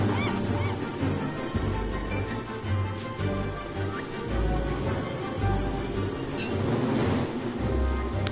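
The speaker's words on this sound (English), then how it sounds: "Seagull." Seagulls squawk in the island game Don't Starve Shipwrecked, giving a few honking calls over a continuous bed of ocean surf and game ambience.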